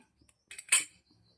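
A spoon clinks against a bowl while ajwain is added for a pickle spice mix, a short bright metallic tap or two, close and alone.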